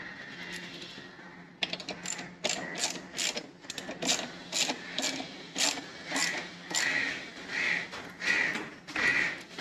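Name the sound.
tightening a bolt on Kawasaki Ninja 300 grab rail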